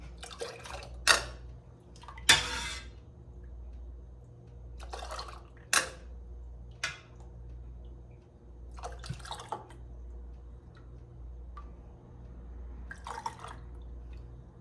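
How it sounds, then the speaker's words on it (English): Hot tomato basil soup being ladled into sterilized canning jars, heard as a quiet sequence of sharp clinks and pours with gentle dripping between them and a low steady hum underneath, no talking. "So I'm just going to fill these jars and see how many jars I get."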